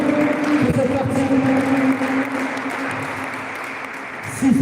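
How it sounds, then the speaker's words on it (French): An audience applauds two players at a match, with steady, continuous clapping throughout that swells slightly at the very end. "On peut applaudir les deux joueurs et les encourager encore"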